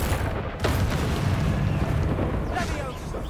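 Confringo blast spell in Hogwarts Legacy going off as a booming explosion with a sharp onset, followed by a dense rumbling roar that stays loud throughout.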